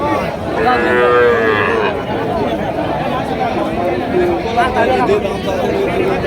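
Cattle low at a busy livestock market in Panchbibi, with one long moo early on and more bellows later, heard over constant nearby crowd chatter and someone talking.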